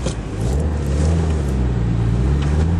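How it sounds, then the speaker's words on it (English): A 1997 Nissan 180SX Type-X turbo with a five-speed manual and an aftermarket air cleaner is heard while driving as a loud, steady low engine drone, with a smooth rumble that holds level throughout. "It has a aftermarket air cleaner, which has that shoo shoo shoo kind of sound coming out."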